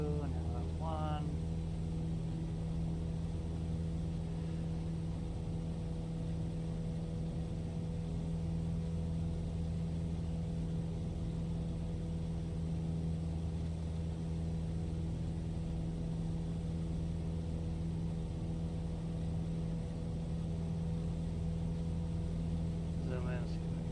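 A small plane climbing after a rocky takeoff in Microsoft Flight Simulator 2024, its engine a steady, even drone that holds unbroken throughout at moderate level.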